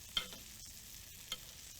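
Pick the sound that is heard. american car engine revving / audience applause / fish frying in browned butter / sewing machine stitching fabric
fish frying in browned butter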